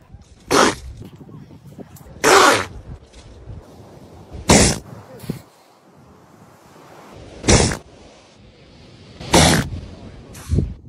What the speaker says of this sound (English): These elephant seals look so cute when they sneeze.